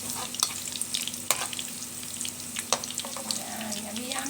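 White rice browns in a pan for a sweet and sour vegetable and chicken dish, a soft steady sizzle broken by occasional scraping stirs and clinks close by.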